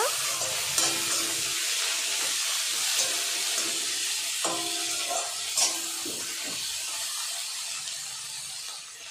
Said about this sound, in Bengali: এবার আমি কেটে রাখা টমেটো দিয়ে দেব। সব কিছু ভালো করে নাড়াচাড়া করে নেব।